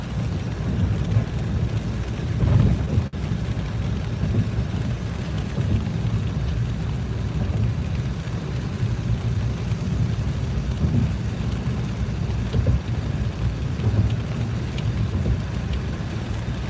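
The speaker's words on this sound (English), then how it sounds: "Look at this rain." Steady night rain in Cleveland falls in a continuous hiss and patter, with a low rumbling wash underneath and no voices.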